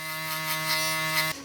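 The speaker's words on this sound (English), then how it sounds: "We come in with the foil shaver" A steady electric buzzing hum from a close-up shaver, running continuously and then cutting off abruptly near the end.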